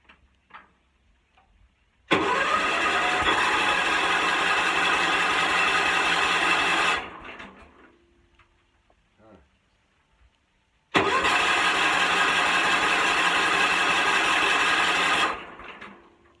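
A choked small gas engine on a homemade wood splitter is cranked and roars loudly for several seconds, dies away, then after a pause sputters into another long loud run before cutting out.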